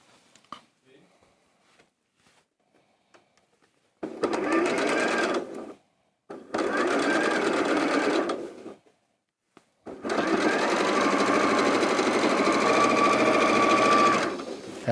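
A sewing machine stitches quilt block pieces together in three bursts, each several seconds long, separated by short pauses, running close and steady with no voices.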